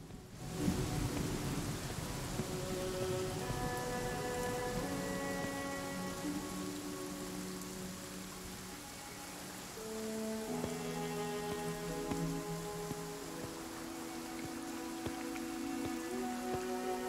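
Steady rain from a storm in the video game Pathfinder: Kingmaker hisses continuously, with layered sustained music tones running over it throughout and no voices.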